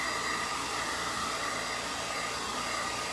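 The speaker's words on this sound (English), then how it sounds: "I feel like my air conditioner has got loud." A loud room air conditioner runs as a constant, even hiss with a faint tonal hum, unbroken and close throughout.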